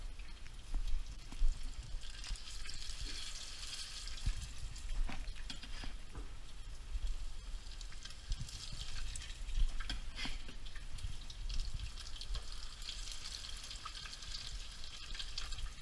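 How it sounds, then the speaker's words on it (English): Fish cakes fry in olive oil over medium heat, giving off a steady, soft crackling sizzle with occasional louder pops, continuous and close throughout. "now we're ready to go into the oil. I'm gonna bring them over here. I got olive oil going."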